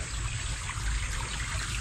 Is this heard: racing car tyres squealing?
no